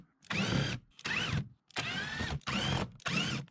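A power socket tool removes the six 8mm bolts on the microfilter housing of a BMW E87 130i with an N52 engine. It makes five close, whirring bursts of about half a second each, with short pauses between them and no talk.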